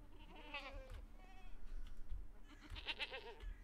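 Goats bleating inside the video game Medieval Dynasty: two wavering, nasal bleats, one early and one near the end, set over a steady low farmyard ambience with no talking.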